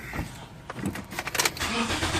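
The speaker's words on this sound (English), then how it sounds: "I'll have the car on with the lights off" A 2006 Toyota Corolla XRS idles with its engine running, a steady close rumble broken by a few clicks and clunks from inside the car.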